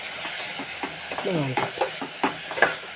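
A tempering sizzling in hot oil for buttermilk rasam, a steady close frying hiss broken by stirring scrapes and spoon knocks, with a voice speaking briefly over it.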